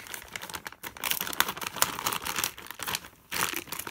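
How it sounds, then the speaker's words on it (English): Scissors snip open a plastic bag of £2 coins, giving close, crinkly cutting and rustling of plastic that runs steadily for about four seconds with brief pauses, no voices. "let's grab the scissors"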